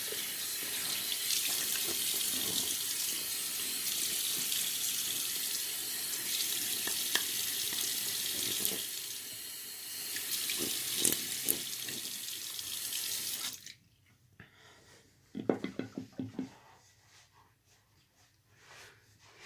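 Running tap water splashes steadily into a bathroom sink while a face is rinsed after a wet shave, a loud continuous rush that cuts off abruptly near the end, leaving a few drips and small splashes.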